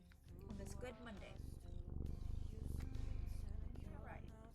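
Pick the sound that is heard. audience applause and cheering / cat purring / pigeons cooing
cat purring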